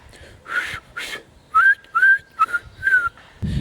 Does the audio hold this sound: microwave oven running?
no